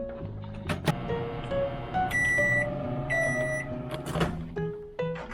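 A microwave oven hums steadily while thawing something at home, broken by several bright electronic beeps and short tones, close and clear.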